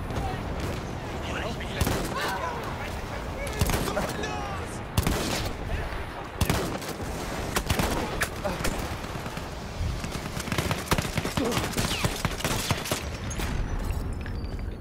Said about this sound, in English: I'm pretty sure I shot him two times with a shotgun